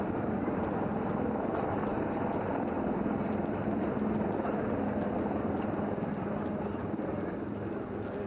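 A Rudra attack helicopter strikes in a tri-services military exercise at Pokhran, a steady loud rotor drone with faint rhythmic blade thumps, under continuous talk.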